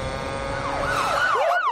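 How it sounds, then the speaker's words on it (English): Police siren from an animated film, a rising and falling wail that swoops up and down over a low background rumble, fairly close and alone. "That's the sound of the police!"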